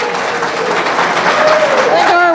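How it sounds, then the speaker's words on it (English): Audience members at a library trivia challenge give a brief round of clapping, loud and close, with a voice starting to talk over it as it ends. "Nice round of applause."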